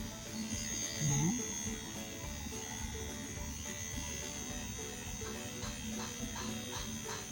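Steady electric buzzing of a vibrating massager running continuously at close range, a constant motorized hum with a brief louder swell early on and faint voices in the background.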